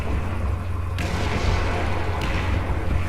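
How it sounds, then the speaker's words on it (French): Artillery fire in the tank game War Thunder, around a KV-2 tank: a dense, steady barrage of heavy booms and rumbling blasts that fills the whole stretch, loud and continuous with no voices. "Dépêche-toi, il y a l'artillerie fire."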